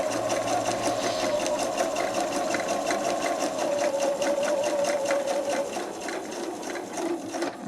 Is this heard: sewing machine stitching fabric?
yes